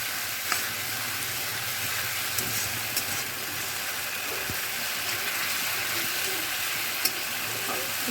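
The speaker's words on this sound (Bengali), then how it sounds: "আর টমেটো রসুনের পেস্টটা দিয়ে দিলাম, একটু এটাকে ভেজে নিচ্ছি" Tomato and garlic paste fry over a high gas flame, a continuous close sizzle broken by a few brief clinks of stirring, with no speech.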